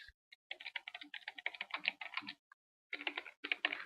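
Close, crisp computer keyboard typing in short bursts of rapid keystrokes with brief pauses, entering a phrase into a spreadsheet chart title in Excel 2010, no talking.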